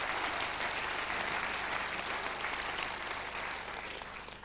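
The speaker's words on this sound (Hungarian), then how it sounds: "Kérem azért őket is üdvözöljük egy tapsal." An audience at a folk dance ensemble's 25th anniversary show applauds in a dense, continuous wash of clapping that holds steady and slowly tapers toward the end.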